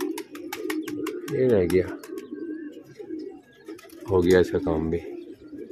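Pigeons cooing nearby in two bursts of soft, throaty calls, with someone talking over them and steady background chatter throughout.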